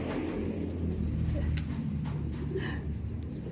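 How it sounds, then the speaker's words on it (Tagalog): Pet pigeons cooing faintly amid steady low rumbling background noise, with brief flutters from birds circling in flight nearby. "Yan yung mga ibon natin"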